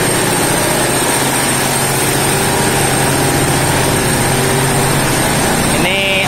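Running engines fill a ship's engine room with a loud, continuous low drone and mechanical hum that holds steady throughout, with a brief higher whine near the end.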